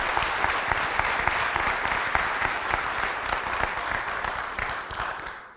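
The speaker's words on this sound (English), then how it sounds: "go ahead and give an applaud for that." Sustained audience applause fills a concert hall after the introduction of a former Pinson Music Scholarship recipient, ahead of a four-hands guitar duo performance. Many hands clap densely and loudly from start to finish with no break.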